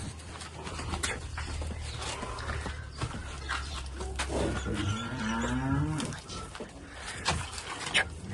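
A large cow on a Kyrgyz farm lets out a long, deep moo that rises and falls, close and clear over steady background noise, with brief bird calls and faint speech around it.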